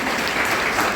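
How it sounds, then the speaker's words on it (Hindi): A brief burst of dense applause at a Teacher's Day celebration at PM SHRI KV Ujjain, as students clap for a teacher, loud and unbroken crowd clapping across the whole second. "सर के लिए जोरदार तालियां बजाएं आप सभी"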